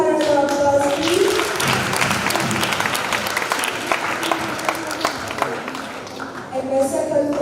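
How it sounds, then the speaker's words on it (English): Classroom applause from primary school pupils at an interactive meeting, a lively burst of clapping that stays full and busy throughout with some voices mixed in. "Give her a round of applause"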